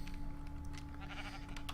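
Sheep bleat softly on a sheep farm in a modded Minecraft-style game, brief faint calls over a steady low hum.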